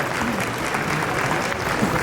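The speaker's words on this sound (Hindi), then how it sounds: "एक बार जोरदार ताली बजा के उनका स्वागत कीजिए" A packed hall audience at the Sanatan Hindu Mahotsav at Talkatora, Delhi, claps steadily to welcome a guest, a dense, even wash of applause that holds at a loud level throughout.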